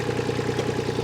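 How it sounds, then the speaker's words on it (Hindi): A Sonalika GT 22 three-cylinder mini garden tractor engine runs steadily up close, a low, even mechanical hum with a quick rhythmic chug and slight clatter, nothing else heard. "आपको बहुत साउंड सुना दिया मैंने इस ट्रैक्टर का।"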